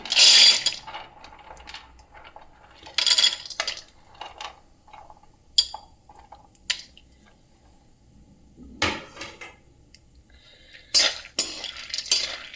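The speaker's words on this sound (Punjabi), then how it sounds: "ਘਿਓ ਦੇ ਵਿੱਚ ਬਦਾਮ ਫਰਾਈ ਕਰਾਂਗੇ ਆਪਾਂ" Almonds fry in ghee over low heat, giving soft sizzling under repeated stirring and scraping with a spoon, with occasional louder utensil knocks against the pan.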